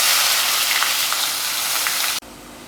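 A quarter kilo of finely chopped onions turning golden brown in hot oil give a steady, loud, close sizzling hiss that stops abruptly near the end, leaving a softer background, with no voices.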